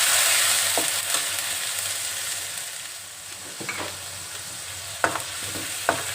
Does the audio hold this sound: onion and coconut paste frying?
yes